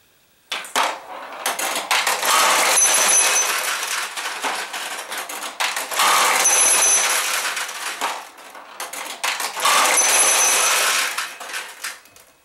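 Steel balls rattling and clattering down through the levers and seesaw of a Sanyo pachinko machine, three long bursts of dense metallic ticking and tinkling with brief pauses, close and fairly loud.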